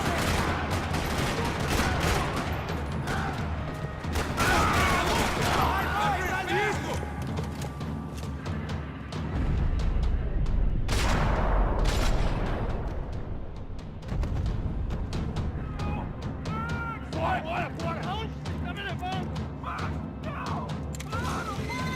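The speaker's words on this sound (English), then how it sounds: "Another parking lot rattling with gunfire." Sustained gunfire rattles through a parking lot in the Max Payne 3 PC game, with dense bursts, crashes and impacts layered over a continuous loud battle backdrop, and no speech over it.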